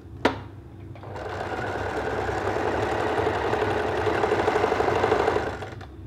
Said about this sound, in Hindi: आधा इंच के मार्जिन से हमें इस पर मशीन चलानी है।